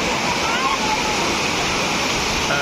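Waterfall at Courtallam pouring down in a steady, loud broadband roar of falling and splashing water that fills the whole clip without a break.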